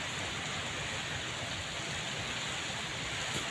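Rain falls steadily and densely all around, a constant loud hiss with no breaks and no voices over it.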